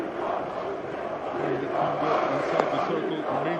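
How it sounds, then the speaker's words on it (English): A stadium crowd at an Afghanistan versus Bangladesh cricket match keeps up a steady, moderately loud roar of cheering and shouting for a few seconds, a dense wash of many voices with no single standout. "Look at the crowd. They're enjoying it."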